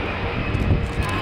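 Cargo aircraft flying low and slow during a parachute airdrop at a Dutch air force open day, a steady loud engine drone with wind rumble filling the short moment.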